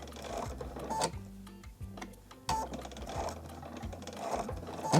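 A sewing machine stitches quilt binding in the ditch, its needle running in steady mechanical bursts with brief pauses between runs. The motor hum and rapid rhythmic stitching sit close and fairly loud, with no talking.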